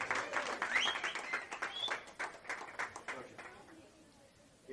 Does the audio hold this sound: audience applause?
yes